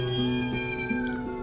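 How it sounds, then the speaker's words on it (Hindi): A kitten cries and meows in a continuous, high, wavering wail, close and loud, with no voices over it. "बिल्ली का बच्चा लगातार रोता चिल्लाता रहा"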